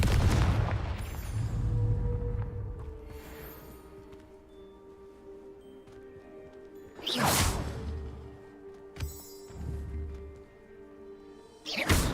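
Confringo spell blasts in the Hogwarts Legacy video game: two loud, sharp explosive bursts with whooshing tails land several seconds apart over a low humming ambient bed, with lighter swishes between them.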